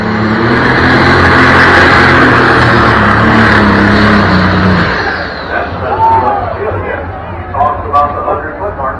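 A pulling tractor's engine roars loudly and steadily at a tractor pull, then cuts off and drops away, leaving crowd chatter and an announcer talking over the quieter grounds.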